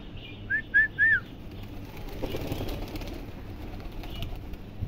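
Pigeons on a rooftop water tank give three quick, clear calls near the start, followed by a soft rustle like wing movement and quiet outdoor background.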